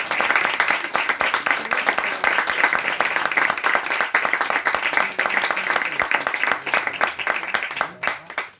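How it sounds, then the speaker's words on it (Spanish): An audience at a book presentation breaks into applause, a dense patter of many hands clapping together that goes on for about eight seconds before thinning out at the end. "Vamos a dar un aplauso a todos."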